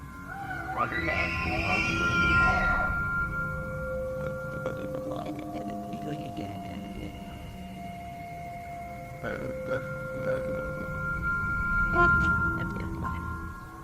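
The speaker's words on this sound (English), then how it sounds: "Having listened to some bull elk calls, I have to agree" A bull elk calls in a forest, a loud eerie drawn-out bugle with wavering high tones, followed by quieter sustained whistling notes over a low rumbling background.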